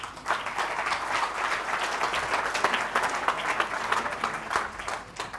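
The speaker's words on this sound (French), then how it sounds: "Je vous demande de les applaudir." A studio audience at a French economics talk event applauds, a dense, loud wash of clapping hands that holds steady throughout without voices over it.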